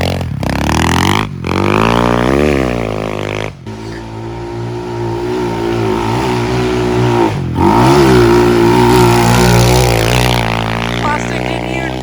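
A modified Kawasaki KLX 110 pit bike fitted with a paddle tire revs hard, its engine climbing and dropping through several throttle blips with brief cuts, loud and close throughout.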